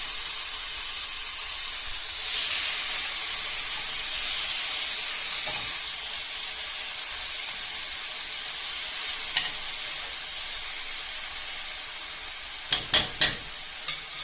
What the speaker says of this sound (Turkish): Ve tekrar karıştırmaya devam ediyoruz.